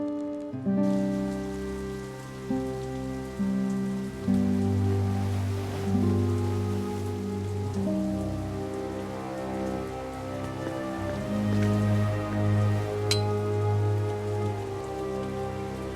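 Steady rain falls in the fantasy adventure game The Dark Eye: Chains of Satinav, a soft continuous patter heard under a calm sustained musical score, with no voices.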